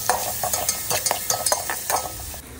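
Tomatoes with salt stir and sizzle in a pan with onions, cooking for veg dum biryani. A utensil scrapes the pan in quick repeated strokes over a soft hiss of frying. There is no talking.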